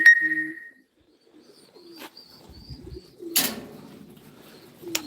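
Pigeons at a bird auction, a few soft low coos and brief calls amid quiet shuffling, a sharp flutter of wings near the middle, close, no talk.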